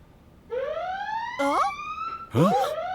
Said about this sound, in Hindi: ये तो फायर अलार्म है।